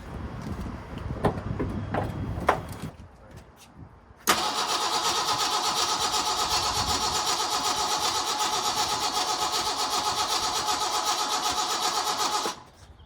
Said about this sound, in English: new battery, and let's see if we could get a crank